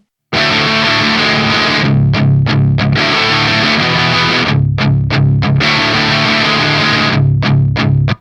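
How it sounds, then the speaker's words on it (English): Electric guitar played through a Volcano Soldano amp sim on a crunch tone, loud and distorted, with sustained chords broken by short choppy strums and stops, playing alone with no talk. "That's a really nice crunchy tone right there."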